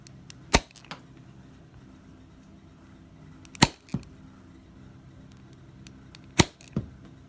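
A tiny Nerf S.S. AS-1 blaster fires darts in three sharp, loud snaps spaced about three seconds apart, each followed by a quieter click of the mechanism, with no talking.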